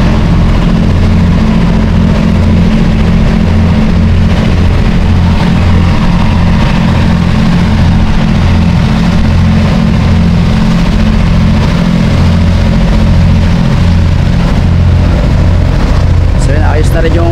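Boat engine running on a trial start with the water pump working, a loud, steady low rumble with a throbbing rhythm that holds throughout, and voices talking over it.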